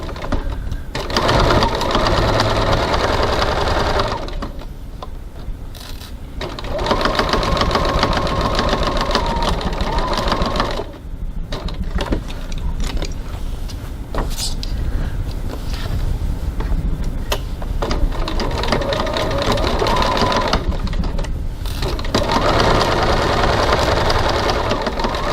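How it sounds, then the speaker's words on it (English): A sewing machine bastes a pocket in place with a 3 mm seam, whirring in long close runs broken by a few short pauses, loud and steady, with no talk over it. "we're going back over to the sewing machine and we're going to baste the two sides together"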